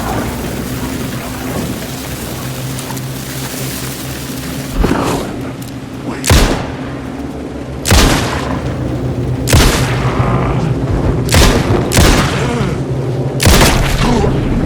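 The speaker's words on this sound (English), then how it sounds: "I got to use my revolver, my flare gun." Revolver and flare gun blasts in Alan Wake 2 ring out as about six sharp, loud shots spaced a second or two apart over a constant rainy, rumbling background.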